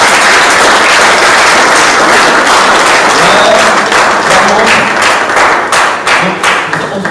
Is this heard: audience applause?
yes